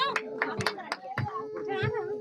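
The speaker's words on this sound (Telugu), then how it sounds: "ఆద్య క్లాప్స్ కొట్టండి" Children clapping their hands at a Holi spring festival gathering, a few scattered sharp claps mixed with children's voices and adult talk.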